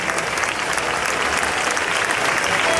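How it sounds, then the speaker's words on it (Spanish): Dense, loud audience applause at a Majas de Ateca event, a steady wash of many hands clapping together, near and continuous throughout with no pause. "ese fuerte aplauso también"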